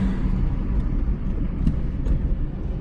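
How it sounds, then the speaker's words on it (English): A 1993 Dodge Caravan minivan with a 5-speed rolls along steadily, cabin rumble and road noise holding constant, with faint light rattles ticking through now and then. "It rides smooth. It's got a little bit of rattling noise."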